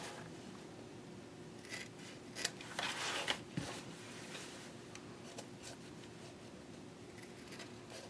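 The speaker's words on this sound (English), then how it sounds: "And then I also like to just trim up the corners" Scissors snipping the fabric corners of a fold-flat packing cube made from splash fabric, a few quiet close cuts clustered together over a faint steady background hum.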